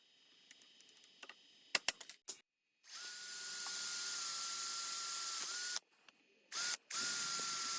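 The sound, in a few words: power drill drilling a part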